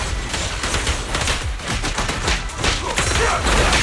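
Rapid, dense gunfire in a video game fight, a loud continuous fusillade of overlapping shots and thuds with no clear breaks.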